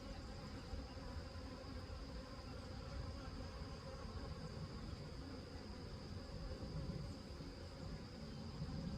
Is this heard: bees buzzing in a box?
yes